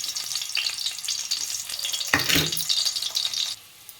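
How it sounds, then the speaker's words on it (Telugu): Onion pieces hitting hot oil and frying in a pan for a curry, a close, loud sizzle with stirring, a sharp burst as more goes in midway, then fading out at the end. "ఇదిగోండి ఆనియన్ ఆనియన్ ముక్కలు వేసుకోవాలి"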